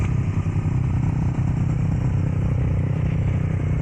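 A Yamaha R15 motorcycle fitted with an aftermarket R1M exhaust idles and burbles steadily at close range, a deep continuous engine drone with no voices over it.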